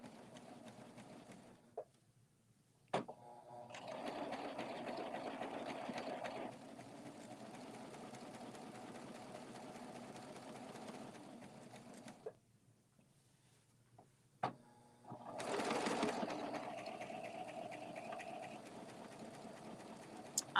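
A serger sewing machine stitches lace around curves with a steady, fast whirring hum that stops briefly and restarts several times, with small clicks between runs, and no talking.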